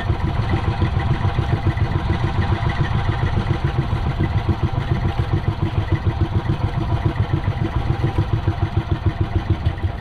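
Boat engine running, a steady, loud low-pitched throbbing with a fast regular chug and mechanical clatter, continuous for the whole stretch with no talk.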